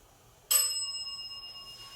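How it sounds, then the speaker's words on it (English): A single bright bell ding strikes sharply and rings on with a long, clear, slowly fading tone in an otherwise quiet room during a group session. "I ask the guides to ding the bell when they are here"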